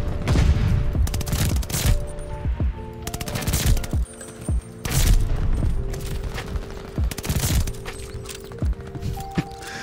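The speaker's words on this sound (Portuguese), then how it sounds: "o cara já tá atirando no meu corpo" Rapid automatic gunfire in Counter-Strike on the Nuke map, dense bursts of sharp shots with brief pauses and metallic clinks, loud and continuous.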